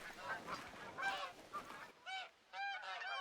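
Geese in the hunting game theHunter: Call of the Wild honk repeatedly, first as a noisy overlapping flock, then as clearer, louder calls standing out alone.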